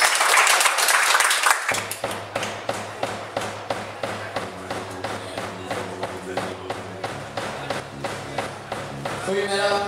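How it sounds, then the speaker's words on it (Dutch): A short burst of audience applause opens the passage, then gives way to a band's music with a heavy, steady thumping beat. "Eén groot applaus, alsjeblieft."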